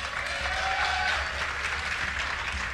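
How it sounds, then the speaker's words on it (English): A crowd at a Dreamhack Summer esports tournament cheering and applauding, a dense, sustained roar filling the hall with no talk over it. "give a cheer for Idra!"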